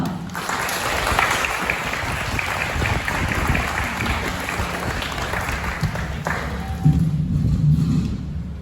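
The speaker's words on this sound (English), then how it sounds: "let's give her a round of applause" Sustained applause from an audience greeting a presenter at a Hawaii Letter To My Parents contest event, a dense, even wash of clapping lasting throughout with a few heavier thumps near the end.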